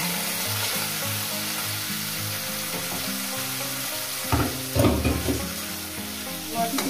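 Fish oil from catla hits a hot pan of tempered spices and sizzles steadily and close, with a louder burst of frying and stirring clatter partway through.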